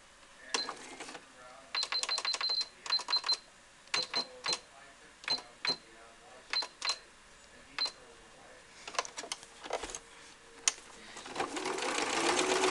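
A sewing machine running a stretch stitch on stretchy t-shirt knit fabric, short mechanical bursts of rapid needle clatter separated by pauses, close and clear, no talk.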